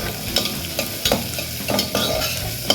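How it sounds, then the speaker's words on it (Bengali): Chopped carrots and mixed vegetables frying in butter for a vegetable soup, a steady soft sizzle broken by several clattering stirs of a spoon against the pan, close and moderately loud, no voices. "তো আবার ভালো করে আমরা এটাকে বাটারের সাথে ফ্রাই করে নেব।"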